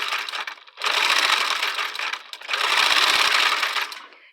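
A 1959 Singer Spartan sewing machine running under its new replacement motor, stitching in two fast, steady bursts of whirring mechanical chatter separated by a brief pause, close and loud.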